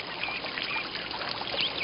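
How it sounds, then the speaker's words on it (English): Flowing stream water outdoors: a steady, even rush and trickle that holds at a constant moderate level throughout, with no voices. "I hear the water."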